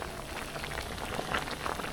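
Green peas boiling in an uncovered pot of water make a steady bubbling simmer with soft pops, close and moderately loud, with no voices.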